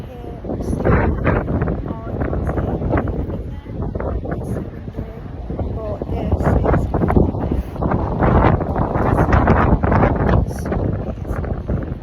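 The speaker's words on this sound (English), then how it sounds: "It was insanely windy at sea." Strong wind at sea roars and buffets continuously across the microphone on a cruise ship, loud and rough throughout, with water-like rushing beneath and no clear talking.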